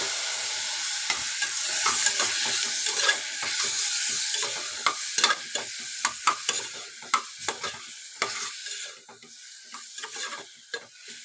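Tomatoes sizzle and fry in a hot pan for a Coimbatore-style paruppu sadam, with frequent scraping stirs of a spoon against the pan over a steady hiss, close and alone.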